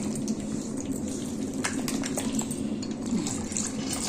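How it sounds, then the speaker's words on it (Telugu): Water poured into a bowl of rava dosa batter, a steady splashing pour that runs for about four seconds, close and fairly even, with no talking. "నీళ్ళు ఎంత కావాలంటే అంత వేసుకోవచ్చు."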